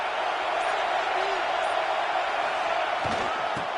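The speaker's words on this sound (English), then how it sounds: "Crowd really getting into it here in the final minute." Crowd at a tied college football game between LA and Maryland in the final minute: a dense, continuous roar of cheering and noise, loud and steady throughout, with faint thuds near the end.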